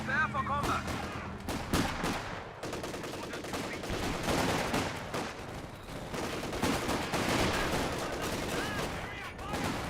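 In a Company of Heroes 2 battle, a light artillery barrage mixes with scattered rifle and machine-gun fire, booming and crackling steadily throughout while a voice talks over the din.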